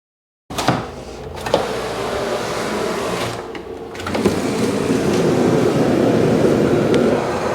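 Dust collection suction roaring on a router table and table saw combo in a small shop, a steady whooshing airflow that swells louder partway through and holds strong to the end.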